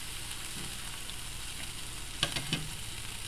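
Small breakfast steaks sizzle steadily in a frying pan in a home kitchen, a constant close hiss with a few brief clinks of stirring or utensil taps.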